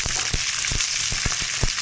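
Chillies and tomatoes fry in oil for a tomato and chilli chutney, giving a steady, close sizzle broken by a few soft stirring knocks.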